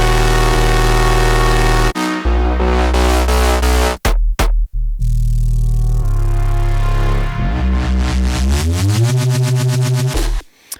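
Electronic dance music drop from a track with sidechain compression switched off, so the thick, loud low end and layered synths hold steady without pumping, broken by a few sharp cutouts near the middle.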